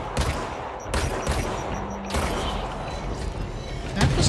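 Gunfire in the video game Control: a burst of loud shots with sharp transients at irregular intervals over steady game ambience, close and dense, with no talk.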